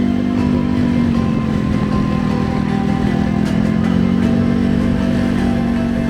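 Motorcycle engine climbing a hill on the road toward Sukomakmur near Mount Sumbing, a steady continuous loud drone with no break, no clear revving peaks, and no talk over it.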